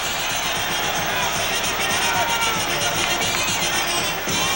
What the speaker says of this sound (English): now the noise will begin to swell as he enters the ring and comes within sight of most of the crowd